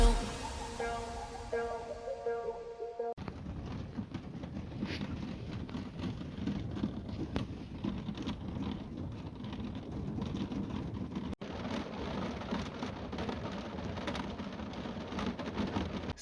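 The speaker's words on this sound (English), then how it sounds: "It's raining a lot since 2 days." Rain falls steadily at night by Lake Garda near Arco, a dense, even patter that holds for the whole stretch, after a brief opening of tonal music.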